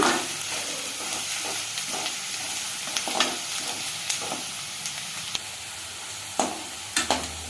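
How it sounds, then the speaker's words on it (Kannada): Onions and curry leaves fry in hot oil with a steady sizzle, while a spoon stirs them through the pan in scattered scraping strokes and clinks; close, with no talking. "ಈ ಈರುಳ್ಳಿ ಎಲ್ಲ ಕೆಂಪಾಗುವವರೆಗೂ ಎಣ್ಣೆಯಲ್ಲಿ ಹುರ್ಕೊಳ್ಳೋಣ"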